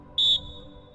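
A single short, sharp whistle blast, high and piercing, cuts off quickly against a quiet background.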